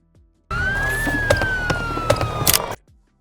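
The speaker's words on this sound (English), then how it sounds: "I use the police siren" A short burst of a police siren wailing with a slowly falling tone, cut off abruptly after about two seconds, with a few clicks.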